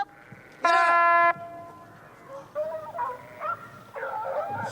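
Hunting hounds give tonal baying cries while chasing a hare during a French hare hunt with hounds. One loud sustained howl comes first, then a series of shorter yelps and bays from the pack at a moderate distance.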